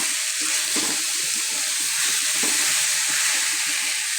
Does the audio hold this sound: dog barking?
no